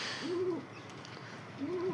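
Two soft, low cooing calls from a pigeon, each a brief rounded phrase, separated by a pause of about a second against faint background hiss.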